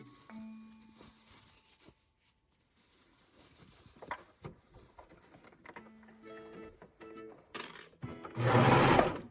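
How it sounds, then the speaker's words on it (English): A serger stitches a neckband onto a child's romper: short, near mechanical whirring bursts with clicks, ending in a loud sustained run of the machine, with no voices. "Here we are at the serger. We're going to sew the neckband in place."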